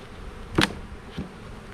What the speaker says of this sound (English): As loud as these bees are, they may not be queen right